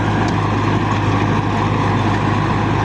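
Steady, loud, close drone of a 1995 Belarus MTZ 50 tractor engine pulling a 60-blade rotavator, a deep even rumble that holds throughout.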